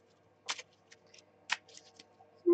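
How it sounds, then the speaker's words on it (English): A tiny Russian deck of playing cards being shuffled, two quick riffling bursts a second apart with faint soft handling noises between, quiet and close. "Let me see how they shuffle."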